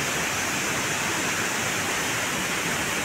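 Heavy rainy-season flow at Gullu waterfall roars as a dense, constant wash of rushing water, loud and close with no break and no voices.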